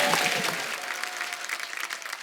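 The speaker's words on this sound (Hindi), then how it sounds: "जोरदार ताली हो जाए।" Studio audience applause from a Hindi comedy talk show, a dense, steady clatter of many hands clapping that fades slightly toward the end.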